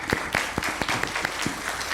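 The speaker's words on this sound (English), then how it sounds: "I will request a round of applause for all our panelists, please." Applause from a workshop audience for the panelists at a revenue and trade consultative session in Karachi, a steady round of clapping with sharp individual claps near the listener, filling the whole stretch without speech.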